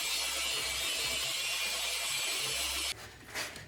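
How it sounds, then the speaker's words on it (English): A Nanoskin Auto Scrub clay pad rubs across a car's painted panel, giving a steady, close, abrasive hiss that stops abruptly near the end, leaving faint handling sounds. "What I'm doing here is a nanoskin auto scrub, basically a clay bar."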